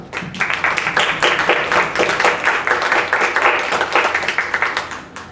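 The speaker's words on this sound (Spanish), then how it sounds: "Le damos un aplauso." An audience claps steadily for about five seconds, loud and dense throughout, with no talking over it.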